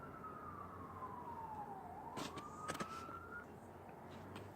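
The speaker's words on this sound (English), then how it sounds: "Waiting for the sirens to pass by." A distant siren wails with a slowly falling then rising pitch, faint over low traffic noise, with a few clicks and knocks nearby.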